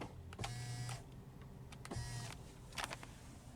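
Power tilt and telescopic steering wheel of a 2022 Tesla Model Y Long Range adjusting: three short electric motor whirs, each about half a second, separated by quiet pauses inside the cabin.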